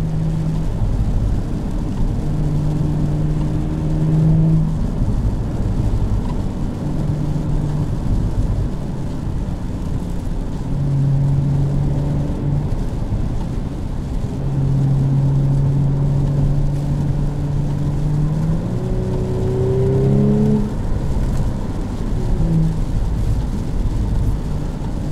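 A 2018 Audi S4 on the move gives a continuous low rumble of engine and road noise with soft exhaust burbles woven through, steady and fairly loud, no talk.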